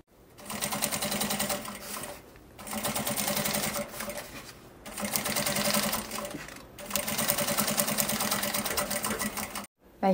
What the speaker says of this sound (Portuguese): Eu vou passar uma costurinha de pês-ponto.